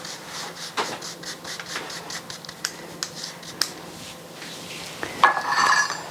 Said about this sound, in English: 250 grams of icing sugar, and I'm going to sieve this to make sure it hasn't got any lumps in it